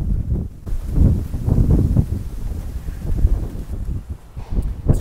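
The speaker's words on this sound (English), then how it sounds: "Let's try to get our back turned to the wind" Gusty wind buffets the microphone on a yacht dock beside a Columbus 40S hybrid superyacht, a steady low rumble with rustling surges and no talk.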